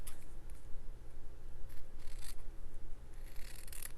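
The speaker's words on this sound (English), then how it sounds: "I think I'll just trim it just a tiny bit." Scissors making a few quick, soft snips while trimming a thin piece of fabric for a patchwork bird card, close by over a steady low hum.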